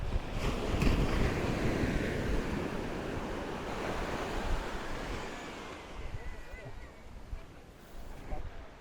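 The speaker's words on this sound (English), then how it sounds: "The waves are kind of strong, they feel like they're going to pull my sandals off." Strong ocean waves washing onto a rocky beach in Kenting, a continuous broadband surf roar with wind buffeting the microphone, loudest early and easing off slightly toward the end, with no distinct talk.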